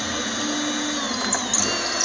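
A power drill bores through a cabinet door for a handle hole, a steady high whine with a low grinding undertone that holds evenly throughout, close and with no talk.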